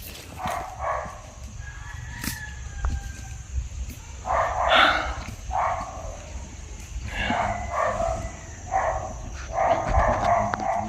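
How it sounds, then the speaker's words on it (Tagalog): A dog barks outdoors in a rural spot where stray chickens roam, giving several short bursts of barking spread through the clip at moderate distance over steady low background noise. "may narinig po tayo mga tao lang aso"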